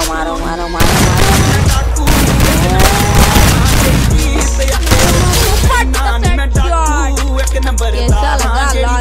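Gunfire in a lone wolf video game, loud rapid bursts and booming shots layered densely throughout, with excited talk over the battle sounds.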